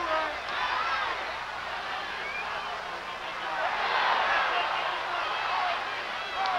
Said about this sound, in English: And the crowd is responding